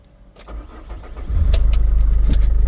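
A Mercedes Vito 2.2 CDI diesel van with automatic transmission and 417,000 km cranks with a whirring starter, then catches and settles into a loud, close, steady pulsing idle.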